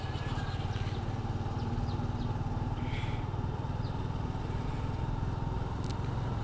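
A Suzuki Gixxer 155 motorcycle is ridden in a rural Bangladeshi setting, its engine giving a steady, close, continuous drone with no break through the whole stretch.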